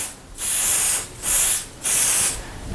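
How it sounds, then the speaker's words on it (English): Three short, loud bursts of CA glue accelerator aerosol spray hiss close by, each about half a second long with brief pauses between, while trimming a staircase. "now we're gonna spray this accelerator right here"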